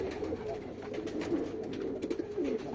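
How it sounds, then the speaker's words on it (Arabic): Iraqi blue pigeons give soft, repeated throaty coos at close range, low and rounded, overlapping in an irregular rhythm against a faint background hum with no talking. "هاي الطيور الماثلة أمامكم راح تروح للأخ المربي صباح الآزوري"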